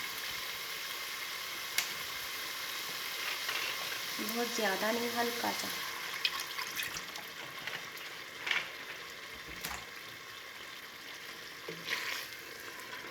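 Steady sizzling of masala frying in a pan for chicken dum biryani, a broad crackling hiss throughout, with someone speaking briefly over it.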